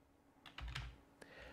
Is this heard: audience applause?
no